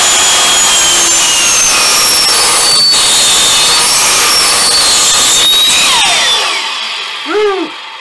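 Loud power saw with a fine-tooth flooring blade cutting through wood, a steady high whine for about six seconds before the cut ends and the motor winds down alone.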